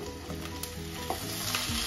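Meat frying in a pan with onions, a continuous sizzle with a few faint clinks and scrapes of stirring throughout.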